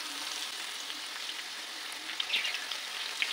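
Crushed garlic frying in oil in a pan, a steady close hissing sizzle with a few brief crackling pops near the end.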